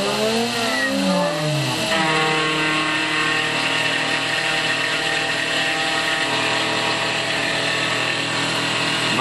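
Mild steel being cut by a threading tool on a milling machine, taking about a half-inch width per pass, gives a loud, steady machine whine with tonal harmonics that shift during the first two seconds, then run on evenly without talk.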